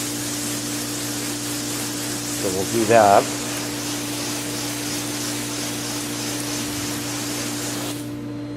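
Water sprays in a steady broad hiss throughout, with a short remark spoken briefly partway through.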